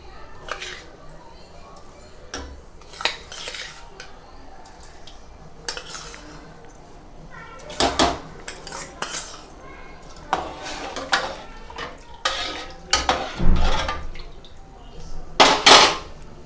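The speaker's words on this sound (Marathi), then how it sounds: "आता पाणी उकळीला आलेलं आहे तर त्यामध्ये मी धुतलेले भगर टाकत आहे" Metal utensils clink and scrape against a pot in irregular bursts as washed millet is added to boiling water and stirred, with faint bubbling underneath, growing busier toward the end.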